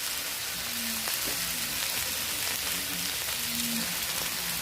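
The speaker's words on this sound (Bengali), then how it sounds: "আমার আলু ভাজা হয়ে গেল, লাল লাল করে ভেজে নিলাম।" Potatoes sizzle in hot oil, giving a continuous close crackle of frying. Faint tonal tones drift low beneath the constant hiss.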